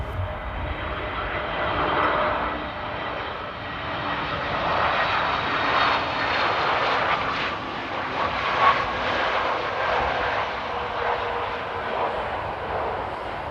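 The Edinburgh flight, an airliner arriving at Amsterdam Airport in stormy weather, roars steadily with a broad engine rumble that swells and eases slightly over about thirteen seconds, with no talking.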